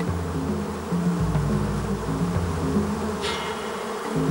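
Honeybee workers buzzing loudly at close range as they fight a large drone at the hive in late autumn, a dense continuous drone with shifting pitch and a brief sharper burst near the end.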